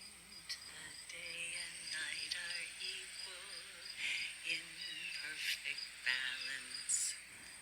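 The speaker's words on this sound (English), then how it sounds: "We can hear the blue jays, and we can hear the crickets and everything." Crickets chirp steadily outdoors from a porch in autumn, a constant high trill running throughout, with birdsong, including blue jays, calling intermittently on top.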